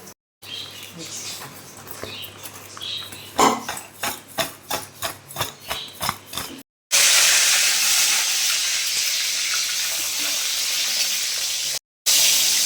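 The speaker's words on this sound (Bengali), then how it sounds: "পটলগুলো আমি খোসা ছাই নিয়েছি এবার নুন মাখিয়ে সাদা তেল কড়াইয়ে গরম করতে দিয়েছি ভেজে নেব" Peeled, salted pointed gourd (potol) frying in hot white oil in a wok. Rhythmic scraping strokes come first, then a loud, steady sizzling hiss that fills the rest, cut briefly by a short gap.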